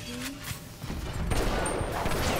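Shotgun loaded with exploding buckshot fires in the video game Bioshock, heavy booming blasts with crackling bursts layered over game combat noise, loud and close, about two shots in quick succession.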